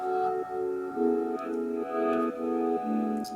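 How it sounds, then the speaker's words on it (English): Soft, effect-laden acoustic guitar notes repeat in an even rhythm, smooth and sustained, with no voices. "and then this like acoustic guitar with effects"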